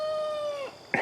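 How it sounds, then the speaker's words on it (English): A rooster crows nearby, a single drawn-out tonal call that trails off, followed by a short burst of noise at the end. "roosters"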